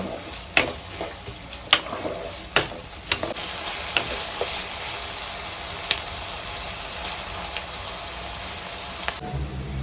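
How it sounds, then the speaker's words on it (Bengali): Chopped onions sizzle steadily in refined oil in a wok. A few sharp spatula scrapes and clacks sound near the start, then an even, close frying hiss runs throughout. "পেঁয়াজটাকে ভালো করে লালি লালি করে আমি ভেজে নেব।"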